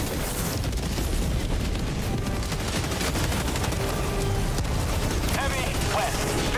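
Heavy machine gun firing in Helldivers 2, a dense, continuous rattle of rapid shots with booming impacts, loud and close, under a busy battle din with voices talking over it.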